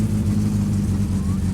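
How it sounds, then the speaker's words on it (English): Engine in My Summer Car pulling away in first gear after the handbrake is released, a steady low drone with a slight rise in revs, close and continuous, with a voice speaking over it. "Handbrake off. First gear. And a quick start."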